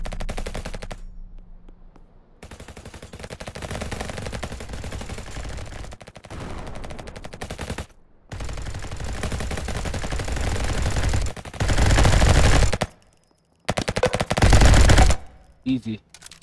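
SMG gunfire in a Roblox first-person shooter game, loud rapid automatic bursts repeating in several long strings with short silent gaps, and a voice talking over parts of it.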